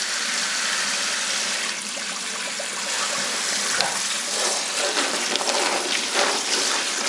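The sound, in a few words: cold running tap water defrosting shrimp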